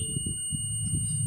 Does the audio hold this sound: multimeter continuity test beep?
yes